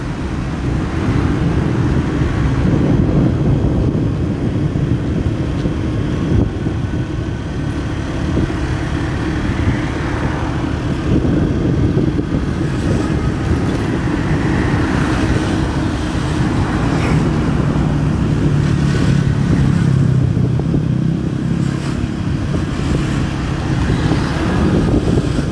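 A motorcycle ridden through the streets of Casablanca gives a steady engine drone mixed with heavy wind rush and distant traffic for the whole stretch, with no talking.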